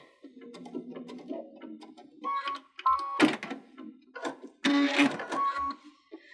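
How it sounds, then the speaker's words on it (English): A Baby Lock Unity sewing machine backstitches over twisted cord trims in short, close mechanical bursts of rapid stitching with brief pauses between runs. "And then I'm going to back stitch."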